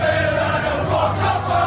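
Full-house crowd of Aston Villa football fans packing the stands, a dense, steady roar of many voices with no breaks, heard from a distance and holding at the same loudness throughout.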